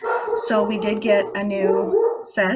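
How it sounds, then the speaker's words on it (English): A dog barks and whines in the background of a room, with several yips and a short howl rising and falling while someone talks over it. "Sorry about the dog in the background."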